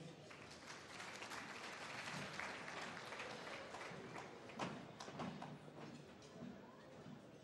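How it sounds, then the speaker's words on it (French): An audience at a sports awards night claps for a secretary general, a continuous, moderately distant patter of applause with a few louder claps that stays steady for several seconds. "Merci d'applaudir s'il vous plaît Monsieur le Secrétaire général"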